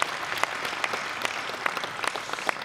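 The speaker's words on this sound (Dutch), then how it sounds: "Even een applaus voor Mohammed." An audience at a Dutch matinee event gives a modest round of applause, with individual claps standing out from a softer, steady patter at moderate distance.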